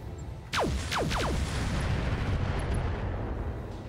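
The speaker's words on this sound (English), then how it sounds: "For the Madcat Mark II, we want to fire on the Warhammer despite the hit odds." A Madcat Mark II mech opens fire on a Warhammer mech in the RogueTech game: several quick descending zapping shots in succession over a loud, sustained rumbling roar that carries on afterward.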